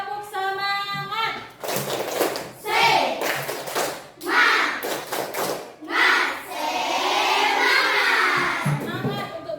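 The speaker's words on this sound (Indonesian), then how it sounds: "Oke, tepuk semangat." Children in an Indonesian elementary school classroom perform a rhythmic clapping cheer, clapping in short patterned bursts while chanting together, loud and close, with an adult voice leading.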